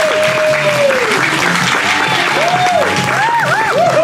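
Studio audience at a Family Feud style game show bursts into loud, dense applause, with whoops and whistles over music, filling the whole short stretch.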